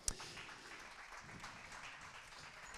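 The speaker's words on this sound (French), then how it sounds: "Sous vos applaudissements" An audience applauds at an innovation challenge held during a foiling event in France. The clapping is faint and distant, a steady wash that opens with one sharp clap.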